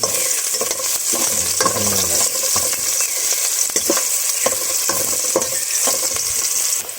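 Ingredients sautéing in a pan, close and loud sizzling under repeated stirring scrapes and utensil knocks, with no voices.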